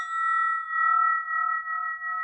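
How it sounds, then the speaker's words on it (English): A spinning bell rings with a steady, pure sustained tone that pulses gently in slow waves, faint and alone. "This bell that I'm holding now we call this a spinning bell."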